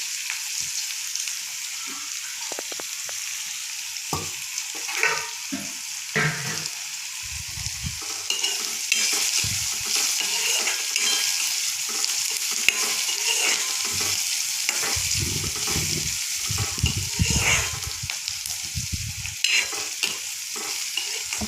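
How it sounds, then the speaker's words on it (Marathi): Onion sautéing until pink in a pan for a capsicum curry, giving a constant bright sizzle with repeated stirring scrapes and clanks over about twenty seconds, close and loud, with no voices. "आपला कांदा गुलाबी परतलेला आहे."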